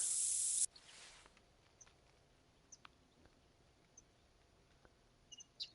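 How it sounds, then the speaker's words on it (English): Deodorant sprayed from a can in the hunting video game theHunter: Call of the Wild: one loud, short hissing burst at the start, then near silence with faint, scattered bird chirps. "Then spray on some deodorant."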